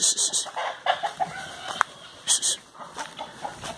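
Free-range chicken clucking while eating a rattlesnake outdoors, a string of short clucks and squawks at close range, with a voice speaking intermittently and a steady high insect-like whine underneath.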